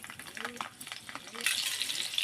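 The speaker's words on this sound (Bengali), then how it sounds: "রসুন কোয়াটা হালকা ভেজে নিই" Garlic cloves frying in hot oil in a kadai, a soft crackling sizzle that swells louder in the final second, close by, with a faint stir or clink early on.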